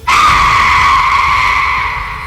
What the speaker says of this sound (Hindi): एक औरत की जोरदार चीख गूंजी।